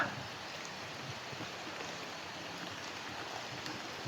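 Heavy rain pours down in a steady, dense hiss that stays even and loud throughout, with no voices over it.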